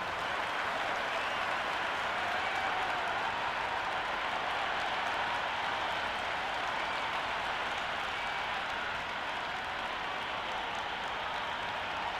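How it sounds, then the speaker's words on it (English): A dense, roaring stadium crowd at a BBL Cricket 26 match on PS5 applauds and cheers without a break, a loud and even wash of noise with no gaps. "this crowd is already making it hard for me to be heard"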